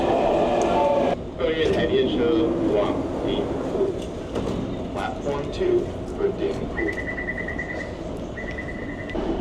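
A subway metro train in South Korea rumbles through a station, its steady low roar mixed with platform noise, chimes and a repeating electronic beeping toward the end.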